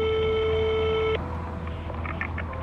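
During a phone call, a steady electronic ringing tone sounds loud and close through the handset for about a second, then cuts off and leaves a faint line hiss with small clicks.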